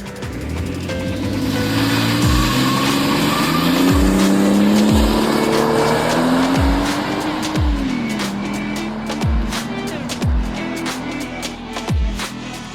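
A car does a burnout on a home driveway, its engine revving hard in repeated rising surges while the tires squeal continuously, loud and close throughout.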